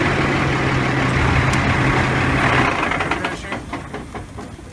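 A truck engine runs to build air pressure during an air brake system check, a steady close rumble that eases slightly toward the end with some rattling.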